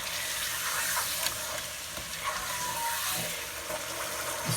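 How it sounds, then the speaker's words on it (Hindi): Achari chicken with yogurt frying over high heat: a constant, dense sizzle and crackle with occasional stirring scrapes, steady and close throughout, no speech. "इसको 1-2 मिनट भून लिया है"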